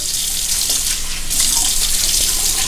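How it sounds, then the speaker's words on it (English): Hot water runs from a tap into a cup in a steady, loud, close rushing stream that swells slightly partway through, with no voices. "I'll even add a little bit more hot water."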